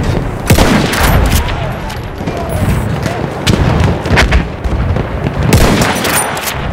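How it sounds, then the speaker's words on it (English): Enemy machine gun fire in a war video game: dense, continuous bursts of automatic shots with heavy booming impacts, loud and close throughout, with a voice shouting over the battle. "It's an enemy machine gun!"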